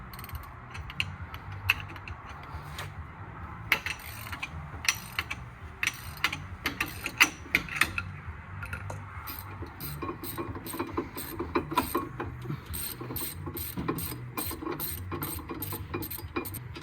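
A hand ratchet works loose the brake caliper bolts on a Ford Focus Mk2 1.6 TDCi. Rapid, close metallic clicking comes in repeated bursts throughout, with no talk.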